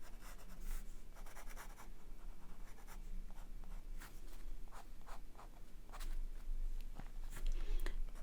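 Pencil strokes scratching across paper for a drawing of boots with flowers, soft rhythmic scribbling with brief pauses, close and quiet.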